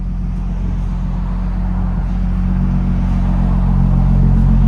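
A 2016 Audi A7 Quattro with a supercharged 3.0-litre V6, Borla ProXS exhaust and muffler delete idles close up, a loud, deep, steady rumble that swells slightly toward the end.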